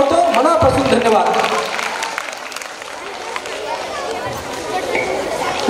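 Applause and crowd noise from an audience at a lecture-series event welcoming dignitaries, a steady wash of clapping mixed with murmuring voices that eases slightly midway, fairly close and loud throughout.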